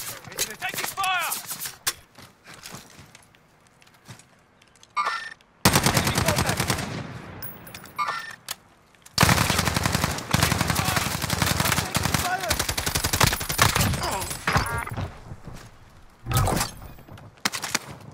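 Dense automatic gunfire in Call of Duty: Modern Warfare, loud and close, with long sustained bursts separated by short pauses and scattered single shots, with game voices speaking briefly in the quieter gaps.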